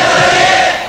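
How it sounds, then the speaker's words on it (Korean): Citizens in Gwangju roar in response to a student leader's anti-dictatorship speech on an archival tape recorded just before the May 18 uprising, a loud, sustained crowd cheer with a hissy, lo-fi tape quality. "그 연설에 호응하던 시민들의 함성도 고스란히 담겨 있습니다"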